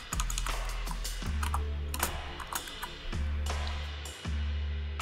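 Computer keyboard keys being typed in quick irregular bursts, close and clear, while a name is entered into hour meter settings, with brief pauses between clusters of keystrokes and no voices.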